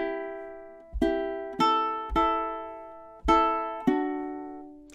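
Ukulele picks out the opening of a song, with a few plucked notes and chords ringing out one after another at an easy pace, close and alone with no voice.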